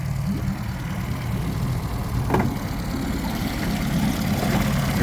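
A 2018 Mercury 115hp ProXS outboard motor idles steadily with a low, rumbling engine drone and water churning, and one brief clunk near the middle.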